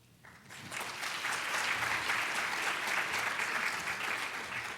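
An audience at an educational leadership event applauds a speaker after her story, with sustained, even clapping from a large crowd that swells in after a moment and continues steadily.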